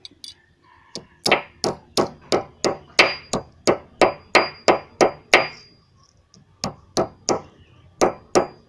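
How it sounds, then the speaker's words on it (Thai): A rapid series of sharp metallic hammer blows bending sheet metal to patch a leak in a smokeless charcoal kiln, steady and close, pausing briefly before a few more strikes. "ให้เพื่อนๆตอกนะครับ ตอกให้มันเบนๆครับ"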